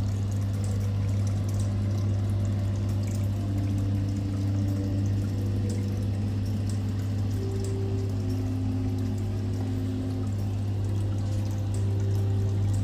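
Water runs steadily and softly inside a dark convent nativity scene display, a continuous trickling pour heard from somewhere unseen, with a constant low hum underneath and no voices.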